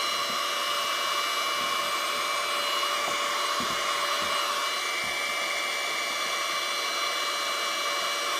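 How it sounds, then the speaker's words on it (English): A small vacuum cleaner sucks over grout-covered model terrain grass, a steady close whooshing roar running unbroken throughout with no talk. "I know it's probably hard for you to hear me over the vacuum cleaner"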